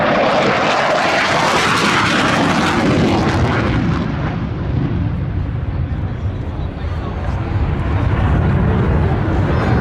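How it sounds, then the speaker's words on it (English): A MiG-29 jet fighter roars past with afterburners lit during an air show at Oshkosh, Wisconsin. The loud, broad blast rises and then fades as the jet moves away, with a commentator talking over it. "We'll get to hear those big burners again on the MiG-29."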